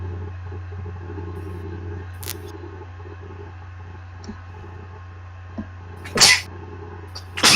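A single sharp sneeze bursts out near the end, loud and close against a steady low hum, with a few faint clicks earlier during a live art stream.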